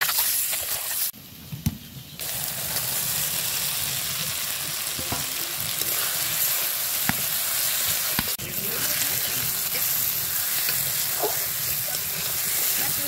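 Food sizzles and fries steadily in a pan for a long, continuous stretch, close and fairly loud, with occasional sharp clicks and scrapes of stirring over the constant hiss.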